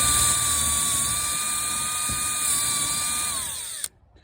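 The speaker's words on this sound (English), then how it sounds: "you get your drill with a 1/8 inch metal drill bit" Power drill with a 1/8 inch metal bit boring out a rivet in the trim of a 1980 AMF Sunfish sailboat, a loud, steady high-pitched whine held for several seconds before it abruptly stops.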